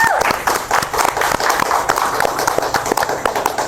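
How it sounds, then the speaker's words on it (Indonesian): An audience at an event honoring a SEA Games 2025 gold medalist claps loudly and close by, with sharp, uneven hand claps in quick succession and a few voices mixed in. "boleh kita kasih tepuk tangan dulu dong, kawan-kawan semua."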